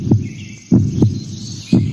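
A heartbeat sound effect in a Spanish-language radio advert for the Parque Ambiental Corazón de Pance, four deep thumping beats in a steady double rhythm over a faint hum and light birdsong.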